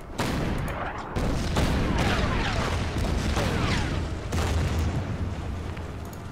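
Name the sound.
bombing explosions in the video game Order of Battle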